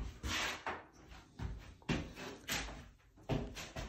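A new wooden door in a house from 1600 under renovation is opened and closed repeatedly, giving a series of close knocks, creaks and thuds in an irregular rhythm.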